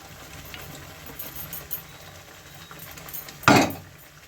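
Fried paneer pieces dropped into a cooking pan: quiet kitchen rumble, then one sudden loud splash and sizzle as they hit the hot pan, quickly fading.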